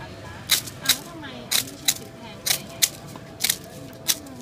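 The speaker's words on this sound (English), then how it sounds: "He's just using a pair of scissors to cut round the trace he did with a pen." Scissors snipping through tinted lens material for eyeglasses at a Thai crafts centre, about ten sharp crisp cuts in an uneven rhythm, close and fairly loud over a faint background murmur.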